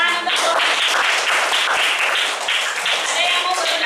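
Students applauding a group in a classroom, with dense, loud, close clapping from many hands that holds steady for a few seconds. Voices mix faintly with the clapping.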